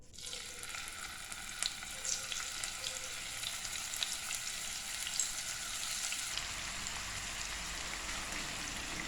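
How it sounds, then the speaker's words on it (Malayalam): Fish pieces frying steadily in hot coconut oil for a Kerala-style fish perattu, a dense, continuous sizzle and crackle close by, with a slight drop in intensity near the end and no talking. "ഇനി നമ്മുടെ മീൻ നന്നായിട്ടൊന്ന് വറുത്തെടുക്കണം."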